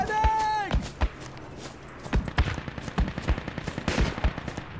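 Rapid gunfire in Project Reality, close and punchy, fires in a quick run of repeated shots after a brief whining tone, with distant mortar-like thuds mixed in.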